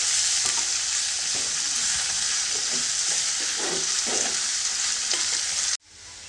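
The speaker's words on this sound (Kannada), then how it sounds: "ಈರುಳ್ಳಿನ ಒಂದು ಸ್ವಲ್ಪ ಕಲರ್ ಚೇಂಜ್ ಆಗೋವರೆಗೂ ಫ್ರೈ ಮಾಡ್ಕೊಳ್ಳಿ" Onions frying in a pan give a loud, continuous sizzle with soft stirring scrapes beneath, then the hiss cuts off abruptly near the end and quieter frying follows; no one talks.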